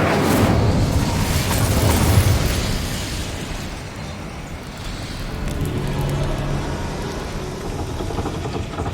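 A fiery spell cast in Hogwarts Legacy erupts as a loud, roaring burst of flame that swells and then settles into a sustained crackling rumble, with no talk over it.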